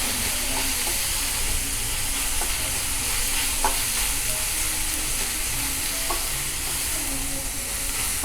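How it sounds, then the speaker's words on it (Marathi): Onion sizzling and frying steadily in a pan over a high gas flame, with a spatula stirring and scraping through it at intervals, loud and close with no talking. "मी गॅसची फ्लेम मोठीच ठेवलेली आहे आणि सतत कांदा परतत राहते"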